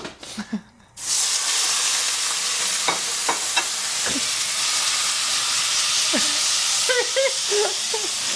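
Food sizzles loudly and steadily in a frying pan during a home stir fry, with a brief quiet start and then a continuous hiss. Faint voices drift in underneath.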